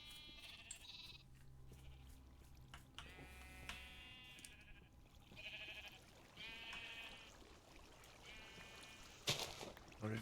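Sheep bleat repeatedly in the Minecraft video game, several wavering calls spread across the stretch in a steady sequence, with a sharp click near the end.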